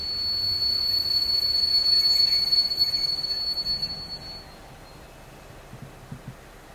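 Class 212 diesel locomotive hauling a special train as it pulls into a station with a long second track, heard as a steady rolling rumble with a high wheel squeal that fades after about four seconds, followed by quieter rail clatter.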